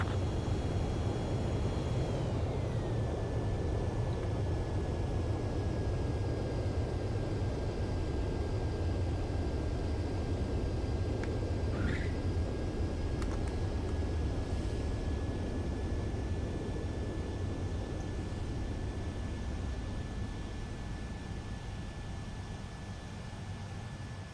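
Jet aircraft engine in the Ace Combat 7 video game during a landing approach, a steady loud broadband roar with a thin whine that drops in pitch early on, then holds constant, alone without talk.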